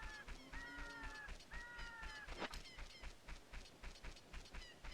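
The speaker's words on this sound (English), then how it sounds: "Hear the windmill running in the background," A windmill running at night in Ocarina of Time, a steady rhythmic creaking clatter repeating at an even pace, with bird-like crowing calls and a brief whoosh over it.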